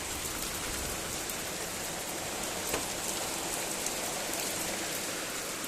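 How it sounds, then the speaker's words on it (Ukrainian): Rainwater runs off a road in a steady, even rush of falling and flowing water, a constant hiss with no talk and no breaks. "З дороги біжить вся вода сюди."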